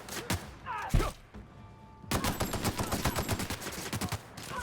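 Enemies open fire in The Outer Worlds, loud rapid gunshots: a few scattered shots, a short lull, then a steady close volley of repeated bursts.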